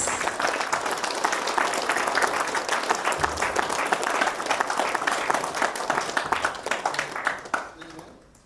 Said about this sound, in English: A huge round of applause everyone for Dr. Sai